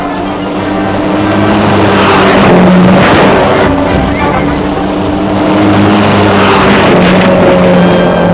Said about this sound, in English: he hurdles himself through flaming barriers at 80 miles an hour